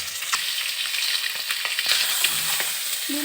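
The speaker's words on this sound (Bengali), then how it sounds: "ডিমগুলো ভেজে নিচ্ছি।" Eggs fry in hot oil in a pan, a close crackling sizzle with spattering pops and a few utensil clinks, no voices.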